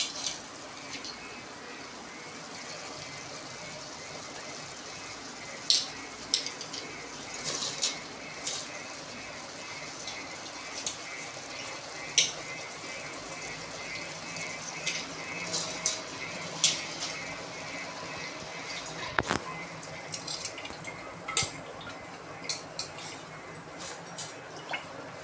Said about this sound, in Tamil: நம்ம பிரியாணி அரிசியை வந்து ஊற வச்சுருந்தோம் இல்லையா, அதை தண்ணி ஊற்றி நல்லா கழுவி க்ளீன் பண்ணிவிட்டு